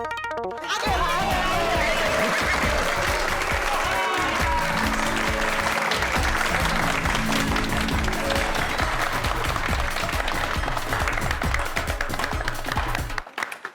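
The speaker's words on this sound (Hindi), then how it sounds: "तो हमारे आने पर ये सब लोग ने ताली क्यों बजाई?" A crowd of people clapping and applauding loudly and steadily, a dense, continuous burst that starts abruptly and cuts off near the end.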